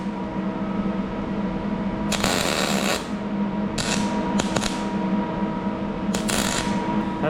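Paddles being welded onto a processor: several crackling, hissing arc bursts of about half a second to a second each, separated by pauses, over a steady background hum.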